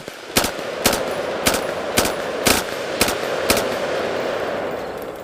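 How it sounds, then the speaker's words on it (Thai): Seven sharp, evenly spaced .223 rifle shots crack out in a steady rhythm over a constant background hiss, loud and close, staged as gunfire in a dramatized audio story. "กระสุนขนาดจุด 223 สาดเข้าหาเป้าหมายด้วยการยิงที่ประณีตยิ่งกว่าทุกครั้ง"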